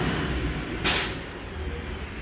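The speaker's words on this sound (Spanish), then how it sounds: "Ahí llegó el camión de la basura." A garbage truck idles with a low rumble as it arrives, then a single sharp hiss of air brakes releases briefly before the engine drone continues.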